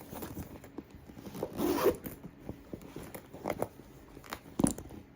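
A zipper is pulled on the inside pocket of a Louis Vuitton Speedy 35 bag, with a few quiet, close rasping zips amid faint handling rustles.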